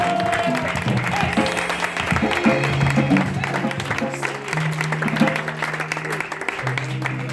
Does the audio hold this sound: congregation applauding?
yes